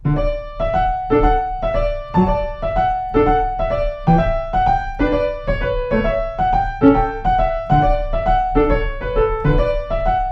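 Piano chords repeat in a steady reverse dotted short-long pattern, each pair snapping quickly into a held note, played clearly and alone.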